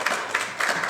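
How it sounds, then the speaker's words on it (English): Short burst of clapping and applause from members at an extraordinary council meeting, a few quick sharp claps in under a second, fairly close and moderately loud. "I know you're clapping and applauding"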